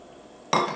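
Milk is poured into a pot of simmering bitter gourd curry: a sudden burst of splashing and hissing partway through that stays loud and then eases off slightly, after a quiet stretch.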